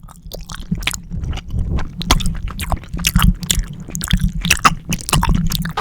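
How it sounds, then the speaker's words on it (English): Loud, close chewing of food for ASMR fills the moment with wet squishes, crunchy bites and smacking mouth noises in a busy, irregular rhythm, without any talking. "Your chewing is so loud, it's satisfying."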